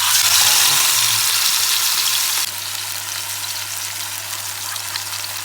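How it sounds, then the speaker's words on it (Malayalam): Red snapper frying in coconut oil in a frying pan makes a loud, close, continuous sizzle that drops suddenly partway through and then carries on at a lower, steady level. "ഇത് പൊരിച്ചെടുക്കട്ടോ. ഫ്രൈ പാനിൽ വെളിച്ചെണ്ണ ഒഴിച്ചിട്ടുണ്ട്."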